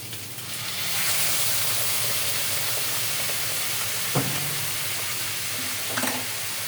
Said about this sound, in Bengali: এখন আমি এর মধ্যে অল্প একটু গরম জল যেটা করে রেখেছি সেটা একটু ছড়িয়ে দেবো।